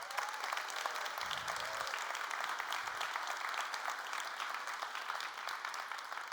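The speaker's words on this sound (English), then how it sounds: "round of applause." Audience applause at a software conference keynote, a sustained wash of many hands clapping that stays steady and fairly full from start to finish, with no talking on top.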